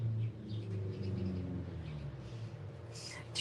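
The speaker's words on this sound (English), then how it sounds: "Can you guys hear that outside? Yeah. Where's the bird?" Bird cooing outdoors near a nest, a soft repeated low coo heard faintly from outside an indoor room, with a short clatter toward the end.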